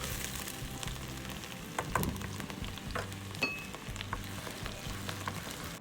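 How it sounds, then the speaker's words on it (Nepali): Finely chopped onion dropped into hot vegetable oil, frying with a steady close sizzle and crackle, a brief burst of spattering near the two-second mark, and occasional stirring scrapes in the pan. "अब म यसमा प्याज मसिनो गरी काटेको प्याज हाल्नु गइरहेको छु"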